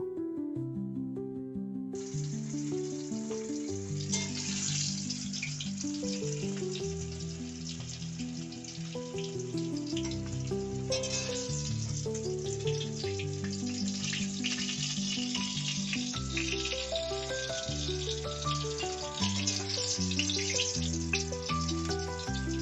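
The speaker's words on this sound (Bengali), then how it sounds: "এবার অল্প পরিমাণ হলুদ ও নুন দিয়ে ভালো করে ভেজে তুলে নেব।" Sliced pointed gourd (potol) fries in oil with turmeric and salt, giving a steady, bright sizzle that runs throughout alongside continuous melodic background music.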